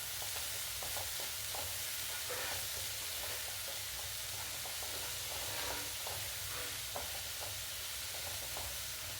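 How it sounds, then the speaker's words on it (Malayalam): Green gram thoran being stirred in a pan, with a soft, steady sizzle and quiet scraping strokes repeating throughout at low volume. "ഇനി നമ്മുടെ പയറുപ്പേരി ഒന്ന് ഇളക്കി കൊടുക്കുക."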